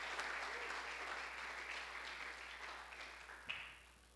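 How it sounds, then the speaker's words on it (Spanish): Church congregation applauding during a Spanish-language sermon, a steady, moderately faint wash of clapping that holds throughout and thins slightly toward the end, with one sharper tap near the close. "Aplaude al Señor, hermano, apláudele."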